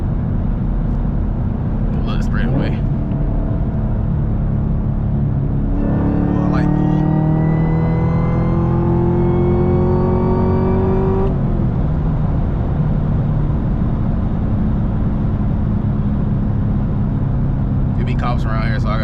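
Camaro ZL1 with a manual gearbox pulling hard on a straight road at sunset, engine roar climbing steeply in pitch through a strong pull then dropping off, loud inside the cabin over constant road rumble.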